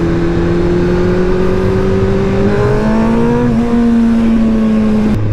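A 125cc motorcycle riding off, its engine loud and close with a steady whine that climbs through the revs and shifts up a gear, no talking over it.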